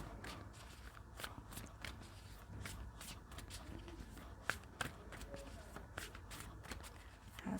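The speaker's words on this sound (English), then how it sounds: "let's draw some more cards for you, Cancer." Tarot cards being shuffled and drawn by hand, heard as soft, quick riffling and flicking bursts with a couple of sharper card snaps, all faint and close against a low background hum.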